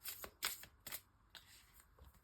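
Oracle cards shuffled by hand for a cross-spread reading, a few quick riffling bursts close by and quiet, with no voices.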